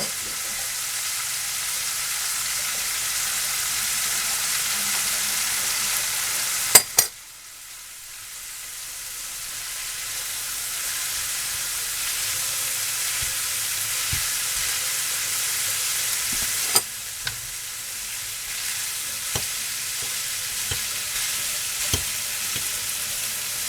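Cooked rice frying in a pan for pork fried rice, a loud hiss that drops off sharply as the rice goes in, then a softer sizzle builds back with occasional clicks and scrapes of stirring.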